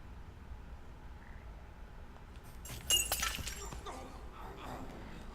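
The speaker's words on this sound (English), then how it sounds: "He's just drunk, he dropped the glass." In the Hitman (2016) video game, a drunk man drops a glass that shatters, one sudden crash with tinkling shards trailing off over a low ambient hum.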